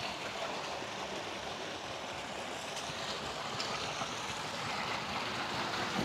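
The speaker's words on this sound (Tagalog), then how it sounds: "Ganda ng agos ng mga tubig dito." River water flowing in a strong current, a continuous broadband rush and gurgle that stays steady and fairly close, with no voices.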